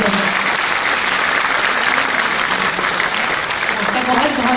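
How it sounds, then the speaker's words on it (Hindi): Audience at a state-level World Population Day ceremony applauds to welcome the chief guest, sustained, dense clapping from a large crowd filling the hall at steady volume from start to finish. "तालियां थोड़ी और जोर से और लगातार बजनी चाहिए"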